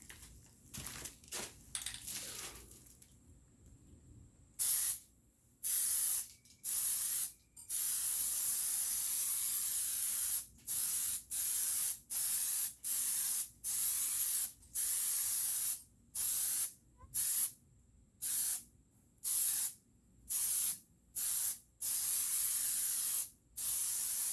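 Aerosol can of Plasti Dip spraying a rubber coating onto car wheels, loud hissing bursts repeated in short rhythmic passes with brief gaps between them, close to the can, no talking.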